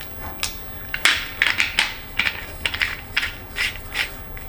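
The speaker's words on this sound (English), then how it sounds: "it's like this is a new pepper mill, I've got to break the seal" A new pepper mill being twisted to break its seal, giving a string of sharp, dry ratcheting clicks and crackles in uneven bursts, close and fairly quiet.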